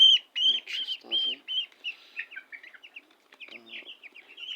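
Fourteen-day-old broiler chickens in a shed, several birds clucking and peeping close by in short uneven bursts, with quieter chirps between calls.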